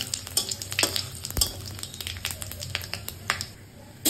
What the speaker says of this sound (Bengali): এখন ওই তেলের মধ্যেই আমি শুকনো লঙ্কা, তেজপাতা, জিরা, গোটা গরম মশলা ফোড়নে দিয়ে দিলাম।